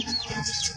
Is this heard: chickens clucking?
yes